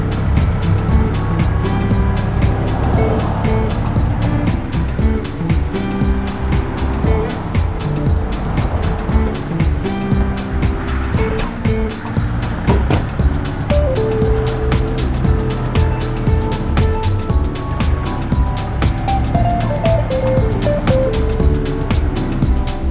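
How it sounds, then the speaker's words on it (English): A vehicle hauling a hefty log up a hillside for firewood, its rear wheels spinning and losing traction; a loud, steady engine roar with grinding, churning tones runs close and unbroken throughout. "You see the rear wheel spin a little bit here as I'm trying to get out"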